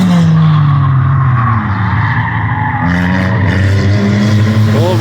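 A Honda Civic race car at an endurance race spins out, its tires squealing and skidding loudly for several seconds over a droning engine, with the pitch of the squeal sliding and wavering throughout.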